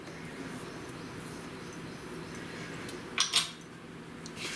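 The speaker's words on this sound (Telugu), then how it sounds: "ఇలా స్పూన్ తోటి ఇలాగా ఈ నెయ్యి మొత్తం ఈ పొడిలో కలిసేటట్లుగా కలపాలి" A metal spoon stirs ghee into powdered sesame for laddus, giving soft scraping and a few light clinks against the bowl. The sound is faint and close, with no talking.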